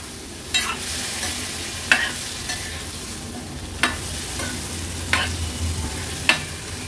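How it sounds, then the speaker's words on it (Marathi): Vegetables with white peas and potato are stirred in a cooking pot, giving a soft steady sizzle broken by sharp scraping clacks of the spoon about once a second. "आता आपण ह्याच्यातच भाजी घालणार आहोत। व्यवस्थित मिक्स करून घ्यायचे।"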